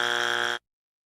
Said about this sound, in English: That buzzer.